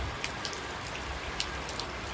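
Heavy rain pours steadily outdoors on a muddy pigeon-keeping yard, a dense, even hiss with scattered close drops pattering on surfaces throughout, no voices.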